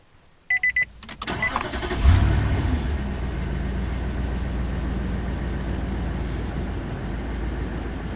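A few clicks, then a Nissan Patrol's large engine cranks and starts with a loud burst before settling into a steady, even idle that continues alone.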